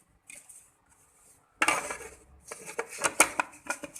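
Torn pieces of roti dropped into a metal kitchen chopper bowl during malida preparation, giving a run of light clattering, clinking knocks after a few faint taps, close up with no talk.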